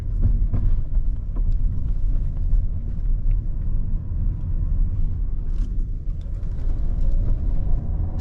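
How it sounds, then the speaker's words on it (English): A 2018 Audi A4 S-Line rolls at about 20 mph over a badly broken road in Merrimack, New Hampshire, heard from inside as a steady, heavy low rumble with road and wind noise and no talking. "So we are approaching the worst road in Merrimack, New Hampshire at 20 miles an hour."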